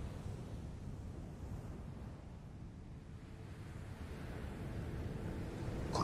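Steady ocean surf rolling in on a windy seashore, a continuous broad wash of breaking waves with wind buffeting the microphone, swelling slightly louder toward the end, no voices.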